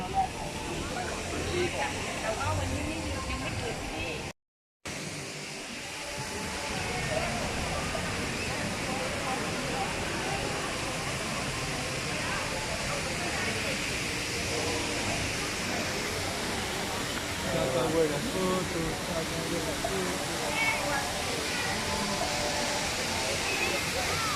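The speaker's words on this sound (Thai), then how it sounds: "น้ำตกสวยงามมากเลย" A waterfall at a temple site pours in a constant broad hiss of falling water, steady and fairly close for the whole stretch apart from one brief cut to silence, with no voices over it.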